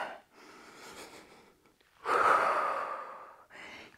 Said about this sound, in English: Breathing in and out.